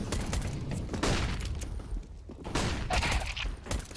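Gunfire and an explosion in a Counter-Strike esports match on the Vertigo map, with dense bursts of shots and booms across the clip.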